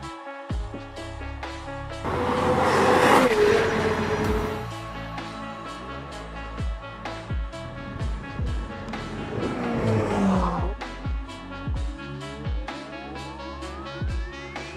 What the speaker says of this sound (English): I am test driving the McLaren